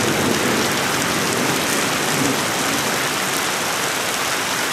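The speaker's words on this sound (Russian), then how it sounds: "Смотри, ливень ебашит, пиздец." A heavy downpour during a thunderstorm in Kimovsk hisses steadily and densely, loud and unbroken, with no voices over it.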